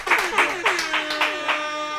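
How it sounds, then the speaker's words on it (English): Podcast hosts clap their hands in a short burst of about six quick, fairly near claps, with some voiced sound running underneath. "Let's clap it up for that."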